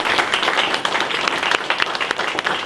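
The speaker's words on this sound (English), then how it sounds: "Please give it a round of applause for our panelists." An audience at a sports and entertainment leadership panel applauds the panelists, a dense, steady wash of many hands clapping together, loud and continuous throughout with no pause.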